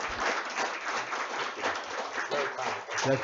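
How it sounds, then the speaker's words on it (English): Applause from an audience for a piano performer rolls on as dense, steady clapping, with a voice briefly calling out near the end. "let's give him another round of applause"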